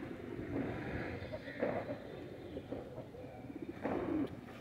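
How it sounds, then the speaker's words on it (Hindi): A Teddy Salara pigeon coos softly in a few short, low, throaty phrases, close by but quiet, with faint talking in the background. "ये कबूतर टैडी सलारा कबूतर है दोस्तों"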